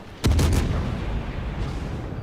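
Main guns of the Hindenburg cruiser in World of Warships fire in a single loud booming salvo, with a rolling rumble that fades as it decays, and no voices.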